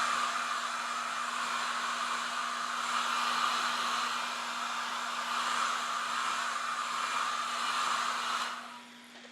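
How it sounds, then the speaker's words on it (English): A hair dryer on its cool setting blows with a steady whirring roar and a constant tonal hum, running close and loud before it cuts off near the end. "I'm using the cool setting on the hair dryer."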